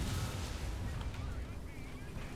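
Heavy tank cannon fire and battlefield rumble in War Thunder, a dense, continuous booming wash with low thuds throughout, loud and close, with a voice talking over it.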